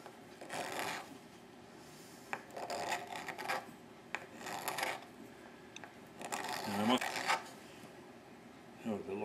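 A rasp or file bevels the wooden edge of an 1860s-style fiddle, giving bursts of close, steady scraping strokes separated by short pauses.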